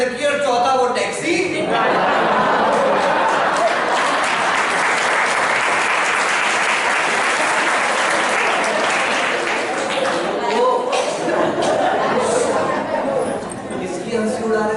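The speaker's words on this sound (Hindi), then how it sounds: "ये देखो ये सारे लोग अपने ऊपर तालियां बजा रहे हैं।" A sermon audience in Malharganj, Indore, breaks into loud, sustained applause lasting over ten seconds. Speech is heard faintly at the start and end.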